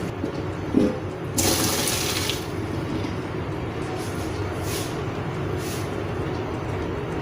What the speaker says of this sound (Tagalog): So let's drain our macaroni.